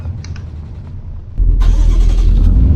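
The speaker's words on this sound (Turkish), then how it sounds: "Arkadan önce çalıştırma sesi geldi sonra aracın modu kendi çalıştırma sesi geldi" A low rumble, then a heavy truck engine in Euro Truck Simulator 2 cranks and catches, settling into a loud, steady idle.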